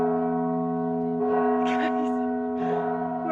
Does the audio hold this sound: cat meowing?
no